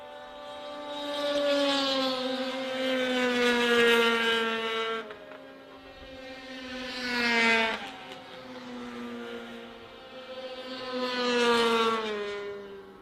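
Racing snowmobiles (power toboggans) scream down the back straightaway at a championship race, engines whining in rising and falling pitch as they pass, loud and then fading into the distance.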